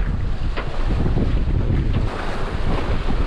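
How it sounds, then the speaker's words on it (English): Wind of about ten knots buffets the microphone aboard a sailboat on flat water, a steady gusty roar with lapping waves beneath, and no voices. "Probably 10 knots of breeze."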